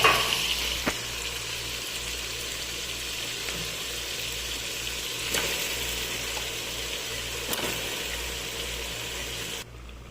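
Chicken pieces tossed into onions frying in oil for a biryani gravy, a steady close sizzle and crackle with a few sharp clicks from the pan, with no talking, cutting out just before the end.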